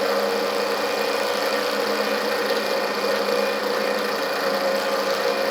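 A Stirling engine running flat out at high RPM gives a steady, continuous whirring mechanical hum with a dense, even texture and no change in level, heard alone at close range.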